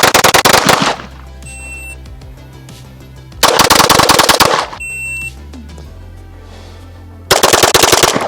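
Loud bursts of automatic gunfire, a firearm emptying rounds in rapid strings, arrive in three blasts separated by quieter stretches of low mechanical hum and faint clicks.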